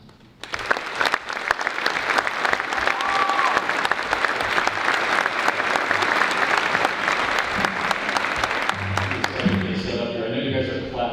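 Student audience applauding a U.S. Navy guest after his introduction, a loud, sustained burst of many hands clapping that tapers into a voice near the end.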